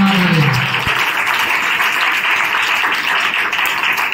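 Church congregation clapping and applauding together in a steady, dense wash of claps that fills the whole stretch, fairly loud and close, with no clear talking over it.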